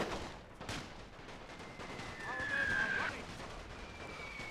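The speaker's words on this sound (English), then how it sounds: "But the rifle infantry firing into their positions." Rifle infantry volleys from a World War One strategy game, Russians against Ottomans, crackle faintly in the background. Scattered distant shots sit under a voice talking, and a thin whistling tone runs through the middle.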